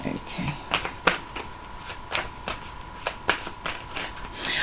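Tarot cards are shuffled by hand in a quick run of crisp riffling snaps and shuffles, close and moderately loud, with an irregular rhythm.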